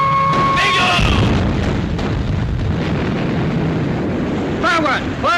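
Naval gunfire and explosions from a wartime sea battle in a film boom heavily, with deep rumbling blasts and crackling debris and voices shouting over the din.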